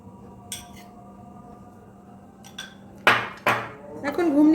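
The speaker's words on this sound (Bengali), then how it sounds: "এখন ঘুগনিটাকে আমার ভালো করে মাখিয়ে নিতে হবে।" A spoon mixing ghugni in a bowl, a few sharp clinks and scrapes against the bowl coming in quick pairs near the end, after quieter moments.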